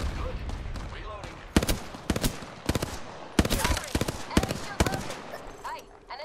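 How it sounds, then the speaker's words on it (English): Apex Legends gunfire comes in rapid bursts and single sharp shots from enemies at close range, loud and punchy, with synthetic game voice lines and effects between volleys. "The enemies are shooting at me."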